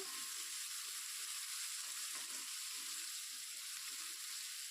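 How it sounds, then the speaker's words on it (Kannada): Onions sizzling steadily in a hot pan while being fried for a drumstick leaves and egg stir-fry, a continuous close, even crackle with faint stirring and no voices. "ಈರುಳ್ಳಿ ಅದು ಸ್ವಲ್ಪ ಕಲರ್ ಚೇಂಜ್ ಆಗೋಷ್ಟುವರೆಗೂ ಫ್ರೈ ಮಾಡ್ಕೊಳ್ಳೋಣ"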